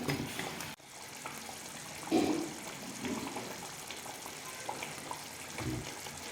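A pot of Tamil kulambu curry bubbles and sputters at a steady simmer, a soft continuous gurgling hiss with occasional louder pops.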